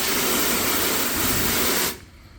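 A loud, steady hissing spray of pressurized water rinsing sealant off a car blasts continuously, then cuts off abruptly near the end, leaving a faint quieter hiss.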